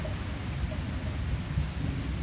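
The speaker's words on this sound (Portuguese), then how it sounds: "tá chovendo, gente, tá chovendo, tá relampeando, tá trovejando" Steady rain falls in the Pernambuco backcountry, a dense continuous hiss with a low rumbling undertone suggesting distant thunder, moderately loud and unbroken.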